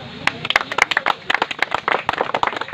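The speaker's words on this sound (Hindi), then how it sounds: "एक बार ताली" A small crowd at a political organization's launch event in Shahkund, Bhagalpur claps in scattered, uneven bursts, individual hand claps standing out close by, with voices murmuring underneath.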